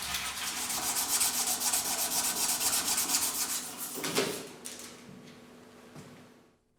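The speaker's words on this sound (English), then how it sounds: "He uses dried horsetail stems for polishing." Dried horsetail stems rub over a carved bone hairpin in quick, steady scraping strokes, close and continuous for about four seconds, then slowing to a few softer rubs before fading out.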